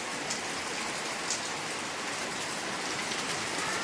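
Heavy rain pours down in a constant loud wash of dense drops striking surfaces, steady and close with no voices throughout.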